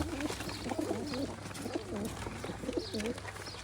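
Pigeons in a breeding loft coo close by in repeated, rolling phrases over a low steady background hum.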